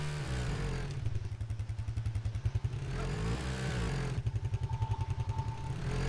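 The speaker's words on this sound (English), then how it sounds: "I got some moron on a fucking quad bike over here" A quad bike in Arma 3 reverses nearby, its engine putting out a steady low buzz with two bursts of rapid, pulsing throttle chatter.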